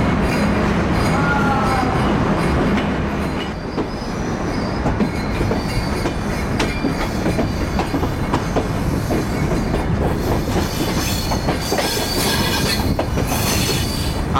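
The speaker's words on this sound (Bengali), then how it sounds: "8 নাম্বার প্ল্যাটফর্ম থেকে ছাড়লো" The Rupashi Bangla passenger train leaves platform 8 on the Dhaka–Kolkata route. It rumbles loudly and continuously throughout, with clattering wheels and occasional high squeals, heard from close by.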